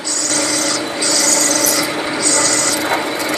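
A drill bit bores into wood while shavings pile up in the hole, giving a steady, close grinding rasp with slight surges in intensity, and no voices are heard.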